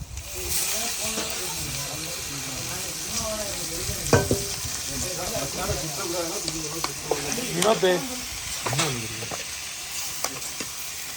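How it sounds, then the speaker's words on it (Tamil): Squid pieces sizzle and spatter in hot oil with ginger-garlic paste in a home kitchen pan, a steady frying hiss with occasional stirring scrapes and bursts, close and moderately loud, with a voice speaking at times. "கனவா போட்டு வதக்கியாச்சு"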